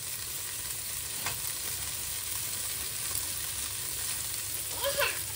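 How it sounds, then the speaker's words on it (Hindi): Mawa (khoya) added to a browned mixture frying in a pan gives a steady, close sizzle that holds evenly throughout, with a few faint clinks near the end. "अब ये टाइम पे हम इसमें डालेंगे हमारा जो बचा हुआ मावा था वो हम इसमें डाल देंगे पूरा"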